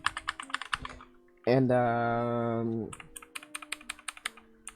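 Rapid clicky typing on a cheap $20 mechanical keyboard, close and clear, comes in dense bursts, pauses while a voice holds a long drawn-out word, then resumes with steady keystrokes.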